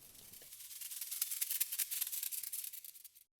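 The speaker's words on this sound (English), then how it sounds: "as you can hear with this shaker, it will sound awful because it has all these transients" A shaker sample time-stretched in Bitwig, its smeared transients turning into a hissy, warbling rattle of rapid gritty pulses that swells and then cuts off abruptly.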